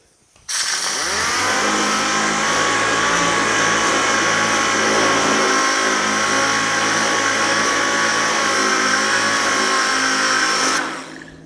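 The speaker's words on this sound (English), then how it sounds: "And I'm using 80 grit on the DA." A dual-action sander fitted with 80-grit paper works the hood of a 1950 Chevy truck, a loud steady whirring hum that starts abruptly, holds constant for about ten seconds, then stops sharply.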